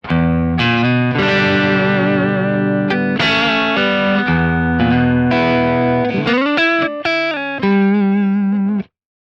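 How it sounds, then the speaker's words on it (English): Clean electric guitar through a warm Plexi amp profile on a Kemper Profiler with no drive, dry and up close, ringing out a series of sustained chords and a few picked single-note phrases, loud and alone. "You have something like a warmer plexitone without the drive."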